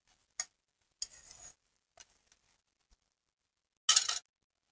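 Onions sauté in oil in a pan for dal fry while a spoon stirs, giving a few short scraping clinks and brief sizzling bursts separated by quiet gaps, close by.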